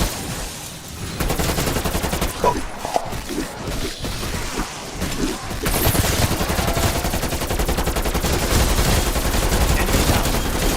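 Gunfire rattles in the shooter game Call of Duty: Cold War, bursts of rapid shots and impacts over a busy, dense game soundscape that grows louder and more sustained in the second half.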